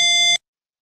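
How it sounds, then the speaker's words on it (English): A VisuALS system alarm gives a single loud, steady electronic beep that stops abruptly and leaves silence after it. "The alarm does this."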